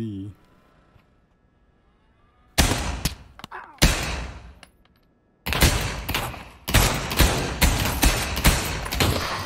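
Desert Eagle pistol shots in a video game, sharp loud cracks: a few isolated blasts early on, then a rapid string of repeated shots near the end, with a voice talking at times.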